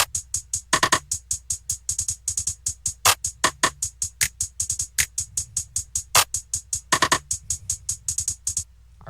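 Programmed drum beat built for a BandLab sampling track, with steady fast hats, rolls, rimshots, claps and snaps over a low kick, playing continuously and alone without any voices.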